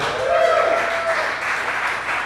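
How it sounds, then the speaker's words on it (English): An audience at a live comedy show at Legit Dogs breaks into applause, a brief wash of clapping heard under a performer's voice. "Clap it up for me."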